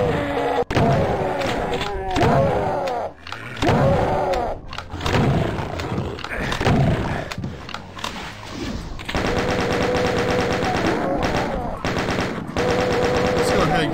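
Rapid automatic chaingun fire in Doom on the Memento Mori map, a loud continuous rattling burst that runs nearly the whole time alongside thuds and roaring game effects, growing denser toward the end.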